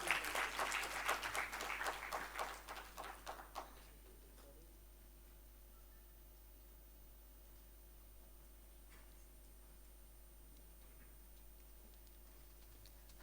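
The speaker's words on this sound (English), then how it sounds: "Please, the round of applause." Audience applause at a film festival screening, with a dense burst of clapping for a few seconds that quickly dies away into a quiet room.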